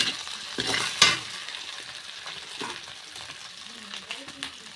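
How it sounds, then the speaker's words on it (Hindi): Sesame seeds, ginger and asafoetida sputtering in hot oil while cooking chana bhaji, with sharp crackling pops near the start and then a softer, intermittent sizzle. "तिली चटपट पर चटपट आवाज़ आने लगी है"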